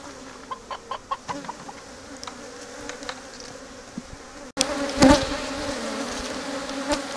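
Agitated honeybees buzz around an open hive being worked for requeening, a steady insect drone that grows louder and denser midway through, with scattered sharper buzzes near the microphone.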